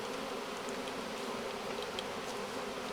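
A honeybee swarm being rehoused into a hive after swarming from a tree, heard as a faint, continuous buzzing drone, even and steady, with no voices.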